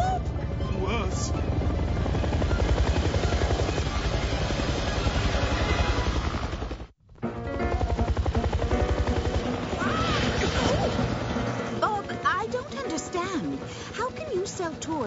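A helicopter flies close by with a loud, steady rotor and engine drone that fills the scene, briefly cutting out midway before resuming, with voices talking over it.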